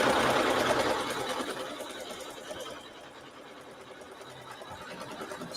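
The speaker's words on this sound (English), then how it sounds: "it's going to go ahead and sew tack down this fabric" An embroidery sewing machine tacks down fabric held in a hoop, its quick rhythmic needle clatter loud at first and then settling into a quieter, steady whirr.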